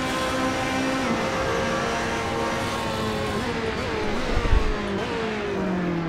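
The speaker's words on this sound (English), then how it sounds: "Oh, the Ferrari sounds fantastic." A Ferrari race car engine in the racing game Assetto Corsa drones loudly at high revs, its pitch rising and dropping through gear changes, with a brief low thump near the end.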